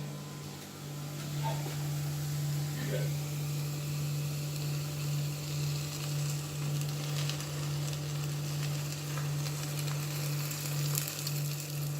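Seasoned whisked eggs, eight of them, hitting a hot skillet with hash browns, giving a steady, continuous close sizzle and frying hiss with a low hum underneath.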